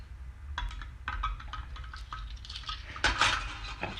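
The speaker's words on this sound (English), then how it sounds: "I use it to scrape off the goodness that's in the measuring spoon" A small stirrer scrapes a measuring spoon in a short series of light metallic taps and clinks. The scraping grows busier and a little louder near the end, with no talk.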